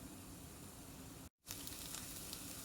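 Scrambled eggs sizzle steadily in a hot pan, a close, even hiss broken by a brief silent gap in the middle.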